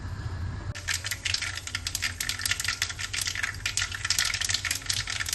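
Mustard seeds pop in hot oil with a dense, rapid crackle of sharp little pops. The crackle starts suddenly and keeps going close and steady.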